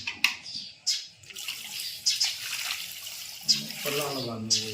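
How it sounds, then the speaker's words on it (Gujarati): Water pours onto a mix of ground herbs being soaked for homemade hair oil, a splashy trickle broken by sharp bursts, with a person talking close by. "હવે એના અંદર પાણી નાખવાનું."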